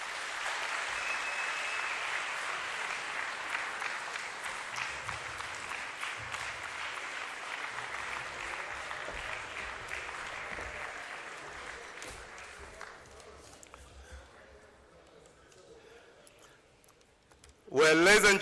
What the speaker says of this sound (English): we need to applaud this even much, much bigger than what we have done